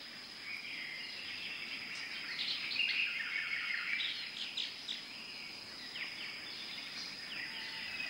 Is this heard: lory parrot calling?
yes